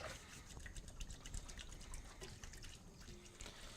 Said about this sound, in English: So I'm going to just wash my hands real quick.